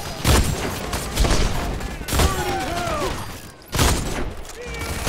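Rapid bursts of video game gunfire from The Expendables 2, loud volleys of shots repeating in clusters roughly every second with echoing booms and whistling effects between them.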